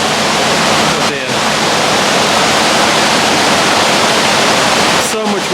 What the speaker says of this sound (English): Yeah, the lock's filling again.